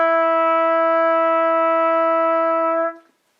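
A band instrument holds a single clean, steady note of E natural for about three seconds, loud and close, with a pure tone that stops cleanly, followed by brief silence.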